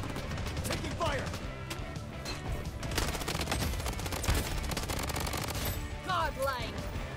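Submachine guns such as the P90 and MP5 fire in the video game Bloodstrike in rapid overlapping bursts, sharp repeated cracks with whizzing ricochet-like sweeps and impacts, dense and loud throughout.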